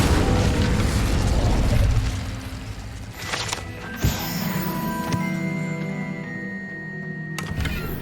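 An Incendio fire spell erupts in Hogwarts Legacy as a loud, roaring blast, dying into a mechanical rumble, with a sharp thump near the midpoint and ringing magical tones trailing off.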